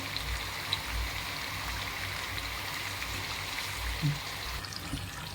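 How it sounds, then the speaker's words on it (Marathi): Continuous soft hissing and fine crackling of oil bubbling around chakli frying, steady and close, with a faint clink near the end. "अजून यात बऱ्यापैकी बुडबुडे येत आहे"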